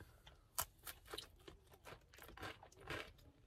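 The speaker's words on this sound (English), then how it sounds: "Oh, you want me to bite into the pretzel first?" Biting into and chewing a white chocolate covered pretzel, a sharp crunch followed by repeated close, crisp crunching chews in an irregular rhythm, quiet and with no talking.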